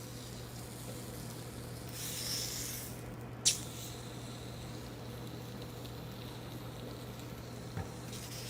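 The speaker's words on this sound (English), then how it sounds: "Okay, I'm going to sear this tuna on all sides now" Tuna searing in a hot pan, a steady close sizzle with a low hum beneath, interrupted by a brief louder hiss and a sharp clack as the fish is moved.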